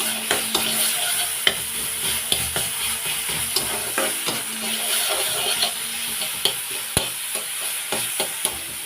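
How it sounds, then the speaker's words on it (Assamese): Food is stirred in a sizzling pan after salt goes in, with a steady frying hiss under repeated scraping and clacking of the spoon against the pan, close and fairly loud. "নিমখ দিছোঁ, সোৱাদ অনুসৰি। লাৰি দিছোঁ।"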